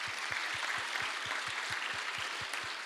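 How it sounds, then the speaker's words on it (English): Workshop audience applauding the speakers, a steady broadband wash of clapping at even loudness throughout, with a faint regular low thump pulsing underneath. "Let's have a round of applause for all the speakers."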